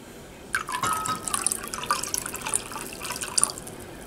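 Rice cooking wine is poured into a measuring cup, giving a few seconds of thin, splashy trickling and dripping at close range with no voices.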